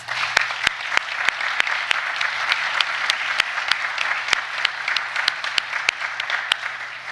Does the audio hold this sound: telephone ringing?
no